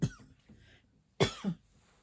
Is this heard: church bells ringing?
no